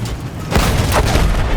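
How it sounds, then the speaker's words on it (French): Grenade explosions go off in a film battle scene: a loud, deep boom swells in and stays heavy and rumbling, with a second blast close behind, both close and dominant. "Des grenades!"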